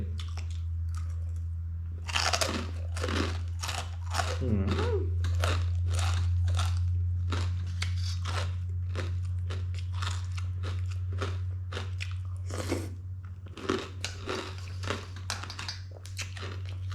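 Crispy Thai pork rinds crunched and chewed close up, a steady run of loud, crackly bites and munching over a constant low hum, with no talking.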